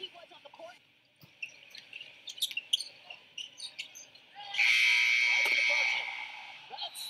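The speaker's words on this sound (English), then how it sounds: "Right at the buzzer, Jamal Crawford." Basketball arena buzzer sounding at the end of an NBA game clock, a loud sustained electronic tone lasting over a second that rises out of crowd noise and commentary, with the announcer talking throughout.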